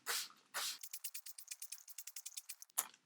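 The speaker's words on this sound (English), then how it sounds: "I've sprayed down my plants" Repeated bursts from a hand spray bottle misting water onto the soil of a potted string of hearts plant, two long sprays followed by a quick rhythmic series of short pumps and a final squirt, close and fairly quiet.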